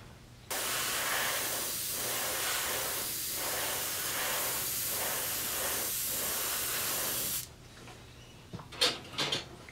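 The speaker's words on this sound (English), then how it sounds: "We're gonna spray that black on there and see how it looks." A steady hiss of black spray paint onto a skeleton fishing lure runs for several seconds, pulsing slightly, then cuts off, followed by a few faint clicks and knocks.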